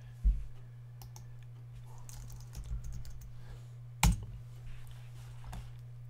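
Typing on a computer keyboard, soft scattered key clicks at close range over a steady low electrical hum, with two louder thumps.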